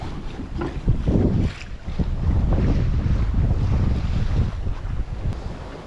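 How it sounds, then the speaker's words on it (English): Wind and water rush steadily around a sailboat under sail with no engine running, crossing the Sea of Cortez; a continuous broadband wash with gusty wind buffeting the microphone, waves slapping now and then. "so peaceful, like just water and wind and no engine"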